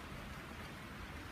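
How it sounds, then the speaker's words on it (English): Heavy rain pours down outdoors during a walk, a dense, steady hiss that fills the whole moment with no break and no other sound on top. "It's raining heavily and heavily."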